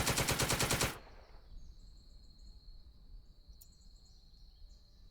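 Heavy tank guns fire in the Second Front tank battle at Caen, opening with a loud, rapid burst of shots lasting about a second, then fading into a quiet hum with faint distant clatter.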